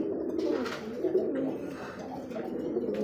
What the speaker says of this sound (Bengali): দেখেন কবুতর ডাক আর অ্যাক্টিভিটি দেখেন মাশাআল্লাহ।